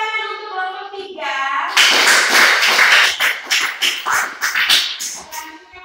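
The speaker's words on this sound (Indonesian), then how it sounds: "Tepuk tangan untuk kelompok 3." A classroom group claps after a presentation, a burst of dense applause breaking out after a moment of voices and fading into scattered claps; talk is heard at the start.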